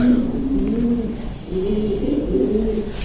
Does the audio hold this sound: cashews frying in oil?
no